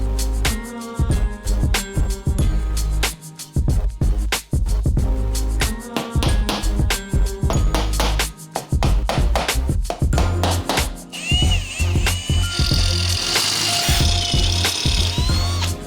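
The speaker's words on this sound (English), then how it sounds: "let's drill some holes" A power drill bores holes in a 4WD vehicle panel during a 12V electrical setup, in loud, close, repeated bursts of whirring and grinding with short pauses between them.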